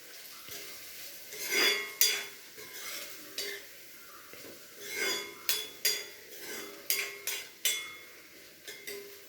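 Chili powder being stirred into a curry in a pan, a series of scraping, clinking spoon strokes against metal at an uneven rhythm, close and fairly quiet.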